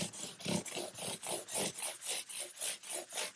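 Rhythmic back-and-forth rasping of light hand sanding on metal guitar frets, about a dozen even strokes, close up with no talking.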